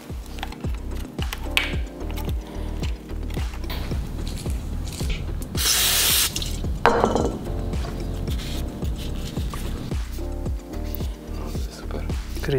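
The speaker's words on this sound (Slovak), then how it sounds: "zhodíme dole krytku predstavca a vyčistíme ju, namažeme a nanovo poskladáme naspäť" Small metal and plastic parts clicking and scraping as a bicycle stem cap is removed, cleaned and greased, with a steady stream of light taps and rattles close up and a short brushing hiss partway through.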